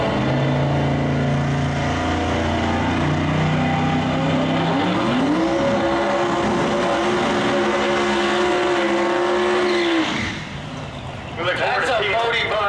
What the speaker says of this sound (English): That's a Bodie burnout if I've ever seen one.